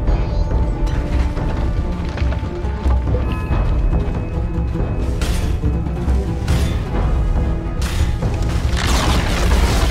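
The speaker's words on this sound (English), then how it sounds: "Radiant's middle tower has fallen" Radiant's middle tower collapsing in a Dota 2 match, a dense, loud wash of battle effects with a heavy boom and several sharp bursts over continuous game noise.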